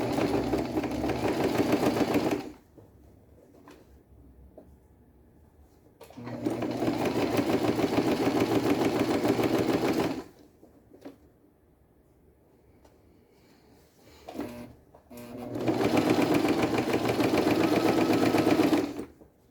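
A domestic sewing machine stitches a beach bag in three loud bursts of fast whirring, each several seconds long, separated by pauses in which the fabric is repositioned by hand.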